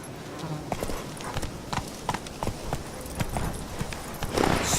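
Roach, Geralt's horse in The Witcher 3, gallops with quick, steady clip-clop hoofbeats at close range, a dense rhythmic patter over faint background ambience.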